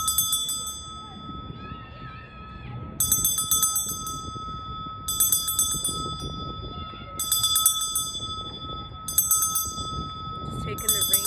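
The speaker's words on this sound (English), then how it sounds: "Just taking the ring of the bell." A bright bell rings in short repeated bursts about every two seconds, with a steady tone and faint voices underneath throughout.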